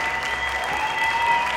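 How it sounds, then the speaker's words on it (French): Theatre audience applauding, a steady wash of many hands clapping at moderate loudness with a faint tonal hum beneath, continuous for under two seconds without speech. "La salle est remplie de cris de joie et d'applaudissements enthousiastes."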